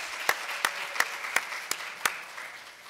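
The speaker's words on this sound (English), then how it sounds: "let's give him a round of applause" A handful of distinct, evenly spaced claps from an audience at a spiritual talk, about six sharp hits in two seconds, fairly faint over a quiet room tone.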